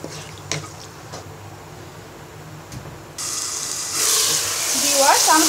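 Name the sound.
spice paste sizzling as it is fried with water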